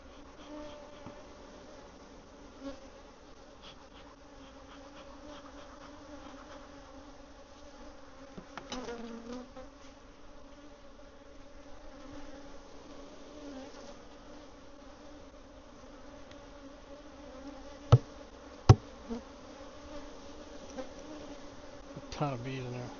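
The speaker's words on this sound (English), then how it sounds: "A ton of bees in there." A low, steady hum of many bees buzzing together, faint and continuous, with a few sharp clicks and bumps near the end.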